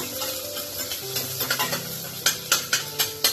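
Onion and spices frying in a pan, a bright steady sizzle under repeated stirring scrapes that turn into sharp, rhythmic strokes toward the end, close and fairly loud.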